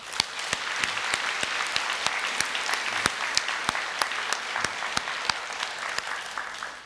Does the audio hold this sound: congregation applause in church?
yes